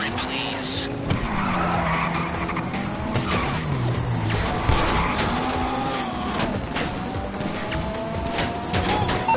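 Getaway car in GTA V skidding, with tires squealing and sliding over a steady engine roar, loud and continuous throughout.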